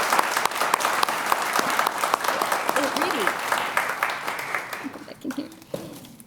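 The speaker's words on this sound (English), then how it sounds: "A round of applause to Jen." An audience at a Memorial Day ceremony applauds steadily and fairly close, the dense clapping carrying on for several seconds before thinning out toward the end, with a few voices mixed in.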